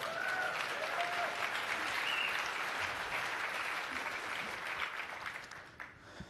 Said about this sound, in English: you have to give me a huge applause